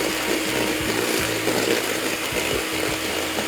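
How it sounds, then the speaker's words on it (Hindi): An electric mixer beating eggs, added one at a time, into creamy cake batter for a pineapple upside-down cake, a steady close whirring drone with slight wobbles as the beaters move through the mix, no voices. "हर अंडा को शामिल करने के बाद 1 मिनट आपने ज़रूर फेंटना है"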